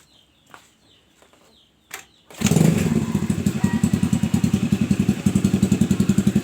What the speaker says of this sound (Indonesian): saya coba untuk menyelah starter sepeda motor ini, saya selah apakah mesinnya bisa hidup atau tidak